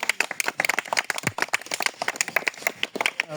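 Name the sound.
audience clapping at badminton prize ceremony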